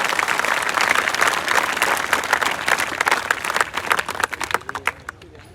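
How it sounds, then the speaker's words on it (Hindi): An audience bursts into loud, dense applause that holds steady for several seconds, then thins into scattered individual claps and fades out, with faint crowd voices underneath. "तालियां यार"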